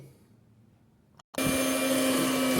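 Electric mixer whirring into carrot and cinnamon cake batter, starting suddenly after a brief quiet stretch and then running loud and steady with a high, even motor whine.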